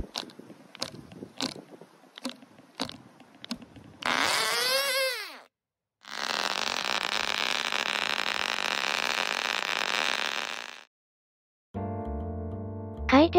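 A small glow-plug model engine fitted to a Plarail toy train starts with rapid clicks and a rising whine, then runs as a loud, harsh, steady buzzing roar for several seconds before a choppy, stepped burst; no talking.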